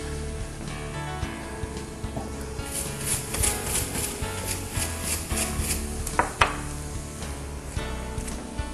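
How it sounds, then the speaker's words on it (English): A cleaning brush scrubs the grids of a Carbon's waffle iron, producing close, continuous rubbing and scratching with occasional brief knocks. "Continue brushing and rubbing the grids until your cleaning brush comes out clean."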